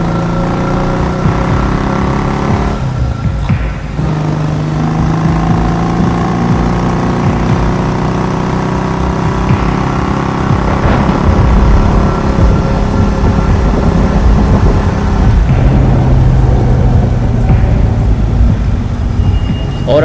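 A motorcycle engine runs steadily at close range on a rainy night, a low continuous drone with gradual pitch shifts and occasional rumbles that may be thunder in the background.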